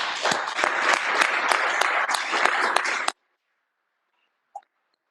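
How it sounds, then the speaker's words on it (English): Audience applause after a presentation, a dense burst of many hands clapping for about three seconds, then stopping abruptly, followed by a brief faint knock. "I think give him a round of applause here."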